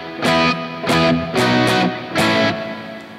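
Electric guitar chords strummed in four separate hits through a hall reverb pedal, each ringing out into a broad, roomy reverb tail that lingers between strums.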